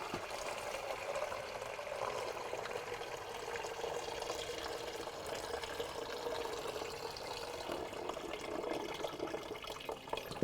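Water draining out of a waterlogged Ford Model A engine found abandoned in the woods, a steady splashing, trickling pour close by that runs without pause.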